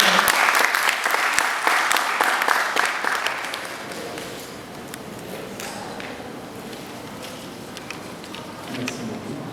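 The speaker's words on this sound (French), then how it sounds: "Veuillez l'accueillir sur une mise en ovation, s'il vous plaît." A large audience at a Togolese cultural day event in Morocco applauds to welcome the vice-president of CESAM. The dense, loud clapping lasts about four seconds, then thins to scattered claps and a low murmur of room noise.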